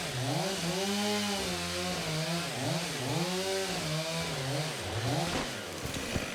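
A chainsaw cuts into a storm-damaged tree, its engine loud and close, revving up and down in repeated swells as the chain bites into the wood, running continuously.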